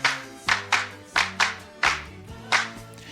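Crisp hand claps from a recording land in a syncopated rhythmic pattern, about eight sharp claps over three seconds, set over sustained harmonium and bass tones from the music.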